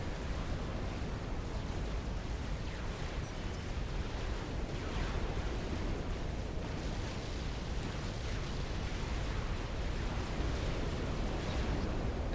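Battleships blow up in a Forged Alliance naval battle, a dense roar of overlapping blasts and rumbling bursts rolling on continuously at moderate volume.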